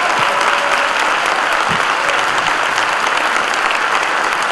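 Loud, steady applause from an audience at a book presentation during the Guadalajara book fair, a dense continuous roar of clapping filling the whole stretch with no talk over it.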